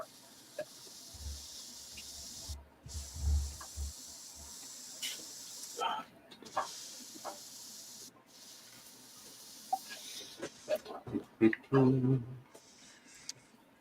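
An airbrush sprays paint onto the windows of a scale model, a steady soft hiss that drops out briefly between passes, with a few knocks and handling noises over it.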